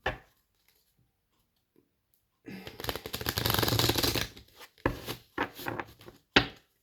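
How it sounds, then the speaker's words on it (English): Tarot cards being shuffled close up in short rustling, riffling bursts, one longer run followed by several brief snaps, with no talking. "I'm going to give 3 shuffles"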